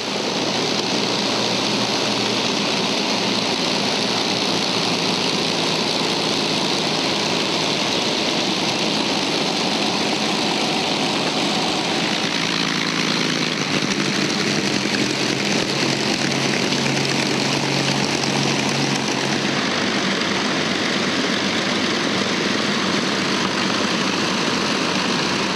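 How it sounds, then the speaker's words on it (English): Avro Lancaster bomber engines drone loud and unbroken as the aircraft taxis along a runway, a dense steady roar that shifts slightly in pitch partway through, with no voices. "there's another Lancaster with Australian connections. It doesn't fly, but it can taxi up and down the runway."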